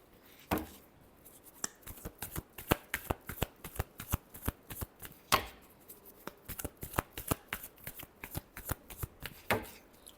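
Tarot cards being shuffled by hand, a long run of crisp riffling snaps and flicks in an irregular rhythm, close and fairly quiet, with no talking over them.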